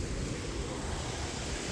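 Rushing waterfall at Chauras in Himachal, a steady broadband roar of fast-flowing water filling the whole clip at constant loudness, close by with no voices.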